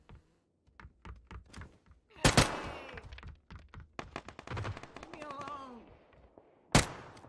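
Bursts of gunfire in a battle royale video game crack out in short volleys amid rapid keyboard clatter, with players talking over the shots at close range.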